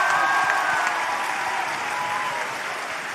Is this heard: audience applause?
yes